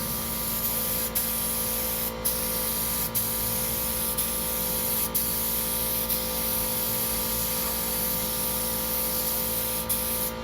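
Rustoleum paint mixed at a 3:1 ratio hisses out of a spray gun in a continuous, steady spray, broken by a few brief clicks of the trigger, with no voices.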